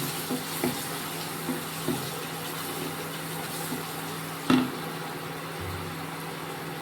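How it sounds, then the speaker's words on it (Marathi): Water trickles into a pan of spice masala with coriander powder, sabzi masala and turmeric, a soft, steady wash with one sharp knock partway through. It is fairly quiet and no one talks. "थोडंसं पाणी टाकून"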